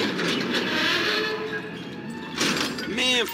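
A train in Grand Theft Auto V rumbles past with a steady roar and rhythmic rattling, followed by a brief squealing tone near the end.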